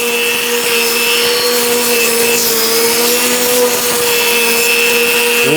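Makita 36V cordless grass trimmer running steadily at speed, a smooth continuous motor whine with a strong steady hum, held close and loud for the whole stretch with no talking.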